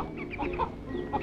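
Poultry chickens cluck in a short burst of several overlapping calls, close and fairly clear, with a low background hum beneath.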